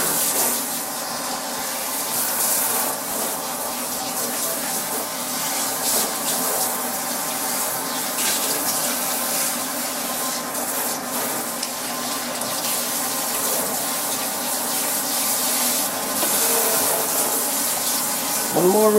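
Steady running water, like a faucet or sink spray, rinses a newborn Cavalier puppy, a continuous close hiss and splash lasting throughout, with a voice speaking softly over it.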